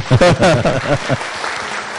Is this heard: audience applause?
yes